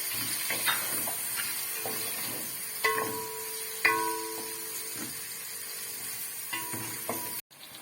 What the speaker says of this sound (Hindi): ये इनको फ्राई कर लेंगे।